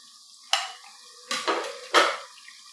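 A spoon knocks and scrapes around a pot of salted white chicken karahi, three or four sharp clinks and stirring scrapes with a soft sizzle between them, close and clear with no talk.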